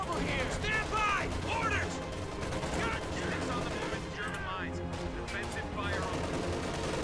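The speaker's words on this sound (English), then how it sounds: "Our machine gun work better." Rattling bursts of machine gun fire in Company of Heroes 2 Ardennes Assault, repeated volleys amid a noisy battlefield with voices talking over the shooting.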